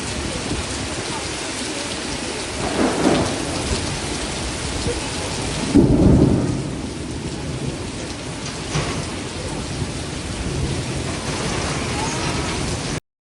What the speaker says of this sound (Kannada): ಈದು, ಹೊಸ್ಮಾರು ಭಾಗಗಳಲ್ಲಿ ಆಲಿಕಲ್ಲು ಸಹಿತ ಧಾರಾಕಾರ ಮಳೆ